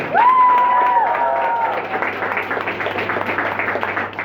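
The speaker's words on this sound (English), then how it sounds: "Big applause for the kids." Audience applause for the kids, mixed with a high whistle and crowd cheering at the start, then steady clapping that gradually thins out.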